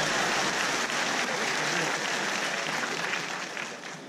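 An audience at a Deusi performance for Dipawali claps in dense, sustained applause that fills the room at full loudness and tapers slightly near the end.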